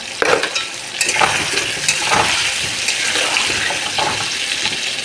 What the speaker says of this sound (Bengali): সুন্দর করে আলুটা সুন্দর করে ভেজে নেবো।